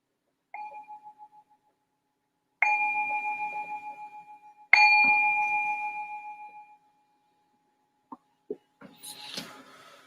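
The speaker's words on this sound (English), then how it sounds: "I'm going to ring this bell to signal the start of our calm abiding meditation" A meditation bell is struck to open a session: one soft strike, then two clearer rings, each tone sustaining and slowly decaying in a quiet room, followed by a few small knocks and rustles.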